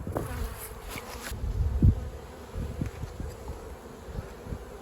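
Honeybees in a small nuc hive give a steady buzzing drone, with scattered knocks and frame bumps from handling, one louder thump partway through.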